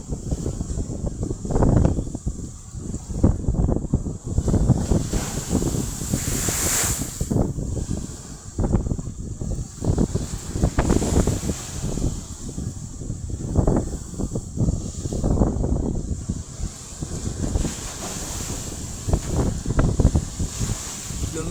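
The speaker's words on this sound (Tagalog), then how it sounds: "Lumiliban lang sa seawall ang alon guys." Large sea waves crash over a seawall during rough weather, a continuous loud churning roar of surf and water with recurring surges, buffeted by wind noise on the microphone, a boat nearby.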